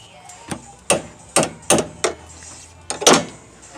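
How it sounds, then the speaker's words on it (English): Sharp metallic hammer strikes on a sway bar end link bracket of a 2015 Mazda 3, about six or seven close blows in an irregular rhythm, ringing briefly after each hit. "you can kind of hit it with a hammer"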